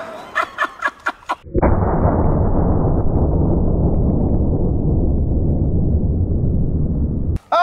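A sawed-off 12 gauge shotgun fires a single loud, close blast that booms and then rings out in a long decaying roar, after a few short sharp knocks just before it.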